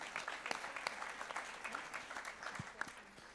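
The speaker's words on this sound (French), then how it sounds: "Applaudir." Audience applause at a French business conference as a guest is welcomed, an even wash of many clapping hands with a few louder claps standing out.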